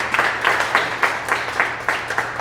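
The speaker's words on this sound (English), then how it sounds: "Give a round of applause for yourself." An audience at a talk on deep conversation breaks into applause, dense rhythmic clapping from many hands, steady and fairly close, lasting a couple of seconds.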